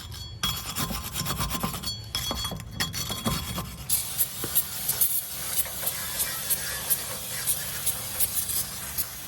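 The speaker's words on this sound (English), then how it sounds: "I'm gonna spray in with some of this brake cleaner to clean them up" Brake cleaner sprayed onto new rear rotors during a Hyundai Sonata brake job, a steady close hiss with rhythmic pulsing after a few seconds of rubbing and scraping work sounds.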